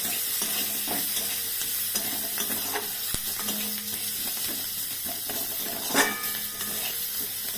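Chopped onion sizzles in hot oil for a stuffing of rohu fish and pointed gourd, a steady close frying hiss with occasional stirring clinks from a utensil against the pan.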